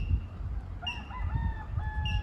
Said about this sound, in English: There's a bird out there making a lot of noise.